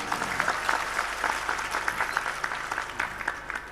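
Crowd applause with steady clapping from many hands, moderately loud and continuous throughout, with no talking.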